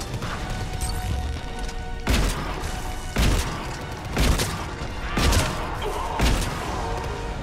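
Gunfire in Mass Effect 3 multiplayer, with heavy impacts landing roughly once a second over a constant rumbling battle bed, loud and close.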